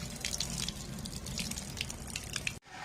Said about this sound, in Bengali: এটাকে আমি ফার্স্টে ধুয়ে নেবো ভালো করে